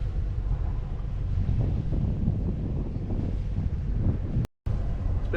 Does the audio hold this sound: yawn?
no